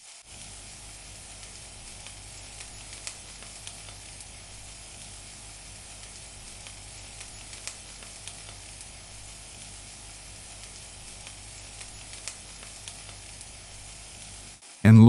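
Fried rice with green onions and eggs sizzling in a pan with the heat off, a steady soft hiss and crackle with faint scraping as it is stirred, ending in a sudden clatter.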